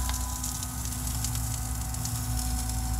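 Steam hisses and sizzles from oil-soaked water during MIG welding on a rusted Toyota Tundra frame, a dense continuous crackle with faint pops and a steady hum beneath.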